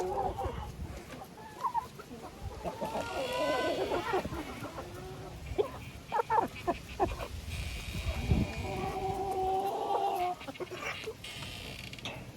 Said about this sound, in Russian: Петух хвастается перед цыплятами, что у него есть буряк.